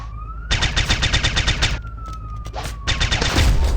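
A minigun in the Rope Hero Vice Town video game fires in rapid continuous bursts, a dense rattling barrage broken by short pauses, with a rising and falling siren-like tone running underneath.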